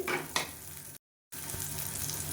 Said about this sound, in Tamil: வெங்காயம் கொஞ்சம் நல்லா வதங்கிடுச்சு